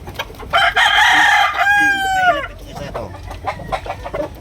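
A Leopard Hatch gamefowl rooster with green legs, three years old, crows once loudly and close in a backyard, a rising then falling cock-a-doodle-doo followed by softer clucking and faint background noise.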